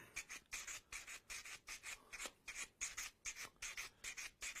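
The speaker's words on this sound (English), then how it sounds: "It's just a sponge with various grades of sandpaper on here again." A cue tip is rubbed back and forth on a multi-grade sandpaper sponge in quick, even strokes, about a dozen faint, close scratchy passes in a steady rhythm.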